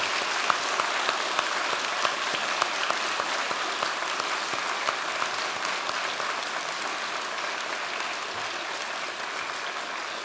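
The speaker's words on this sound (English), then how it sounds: "join me in a round of applause for all of the supporters who are here today" A graduating class gives a long, even round of applause at a University of Limerick conferring ceremony, with many hands clapping steadily in a large hall.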